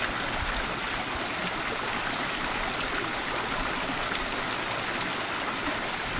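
An open shower tap runs continuously, a dense, steady hiss of falling water filling the whole stretch at even loudness with no voices.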